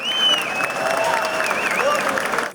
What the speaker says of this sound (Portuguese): Ela foi aplaudida de pé pelo público presente